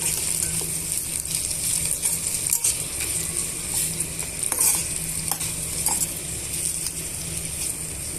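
Tomato pieces fry and sizzle in a pan, a steady crackling hiss with occasional stirring scrapes and taps, heard close with no talking.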